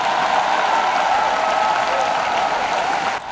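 A church congregation breaks into sustained applause and cheering during an evangelical service, a dense, steady wash of clapping that carries on with no break before easing off at the very end.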